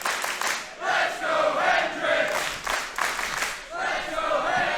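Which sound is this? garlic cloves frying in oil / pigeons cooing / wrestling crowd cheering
wrestling crowd cheering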